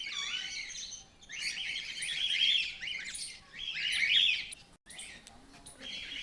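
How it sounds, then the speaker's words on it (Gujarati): Parrots of several kinds call in a zoo aviary's caged enclosures, with harsh, shrill squawks and chattering in overlapping bursts. The calls are moderately distant and fill most of the six seconds, with brief gaps. "અલગ અલગ પાંજરામાં અલગ અલગ પોપટ રાખેલ છે."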